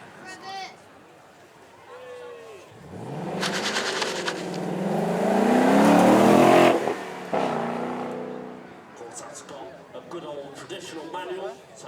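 A manual supercar on a track at the Beaulieu Supercar Weekend roars past, its engine note climbing hard through a gear before cutting back sharply, with a commentator's voice and crowd noise around it.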